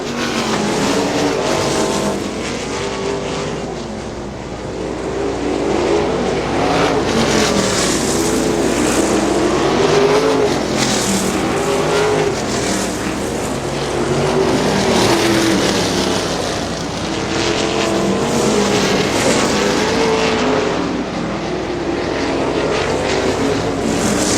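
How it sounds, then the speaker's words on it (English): Winged and non-winged sprint cars race on a dirt oval at Butler Battlegrounds in Quincy, a continuous loud roar of high-revving engines that swells and fades as the cars pass, with no talking. "Gary Fast unchallenged for the lead in the number 26 machine."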